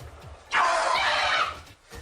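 A person lets out a sudden loud scream of fright, a sustained shriek lasting about a second, rising sharply out of quiet room noise and then fading.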